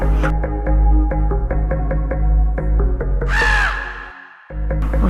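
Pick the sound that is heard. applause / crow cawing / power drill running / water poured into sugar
crow cawing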